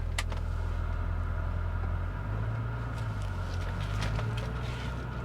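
Engine of an OBD1 VR6 Corrado idling after being started, a steady low hum with small shifts in tone and a few faint clicks, close by.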